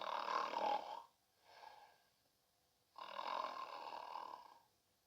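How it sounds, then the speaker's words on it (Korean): A wolf snoring, voiced as a sound effect for a Little Red Riding Hood story. There are two long, loud rasping snores with a softer breath between them, close and alone with no talk. "늑대는 침대에 드러눕자마자 곧 코를 골며 잠이 들었어요"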